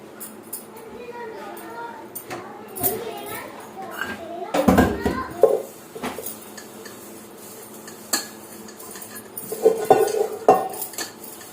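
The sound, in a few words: pressure cooker and dishes being cleaned in kitchen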